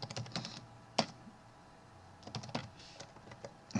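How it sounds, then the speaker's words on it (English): Typing on a computer keyboard, key clicks scattered in short bursts at close range with a sharper single keystroke standing out and quiet pauses between flurries. "You can highlight, get in there and type,"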